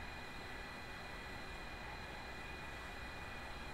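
A Boeing 737-700 takes off in Flight Simulator X, producing a steady, broad engine roar with a thin tonal whine that stays even and unbroken, with no speech.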